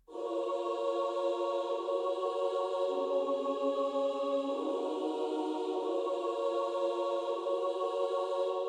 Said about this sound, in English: It's the Olympus Choir from Halion Sonic, so a Steinberg product.